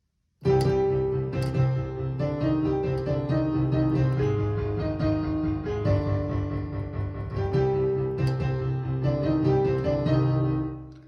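A piano plays a flowing melody over sustained low chords, loud and close, continuing without pause and without any voices.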